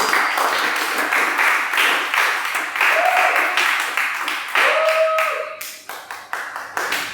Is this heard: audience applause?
yes